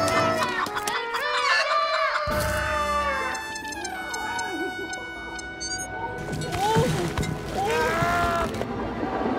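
Hens clucking and crowing loudly in a busy, layered mix with other voices and musical sounds.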